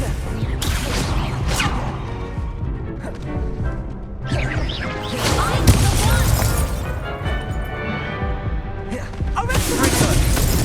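The Expelliarmus disarming spell is cast during a duel in the Hogwarts Legacy video game, with several sharp cracks and crashing magical impacts over a busy layer of game effects and sound.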